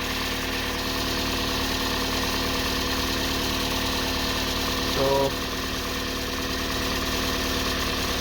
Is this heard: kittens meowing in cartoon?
no